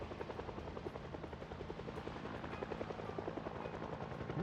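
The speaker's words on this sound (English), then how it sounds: "Helicopter's still going." Helicopter in the zombie survival game Project Zomboid, its rotor chopping in a fast, steady pulse with a low engine drone, fairly faint and distant-sounding, sustained throughout with no talk.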